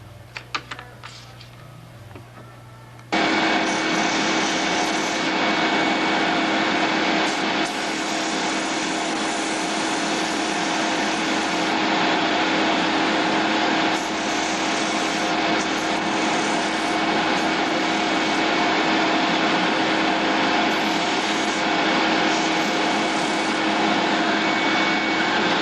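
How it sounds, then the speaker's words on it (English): A belt sander shortens a small wooden part, starting after a few seconds of quiet clicks and then running as a steady, close, high rasping whir that continues to the end. "you can just run them on a belt sander, shorten them up"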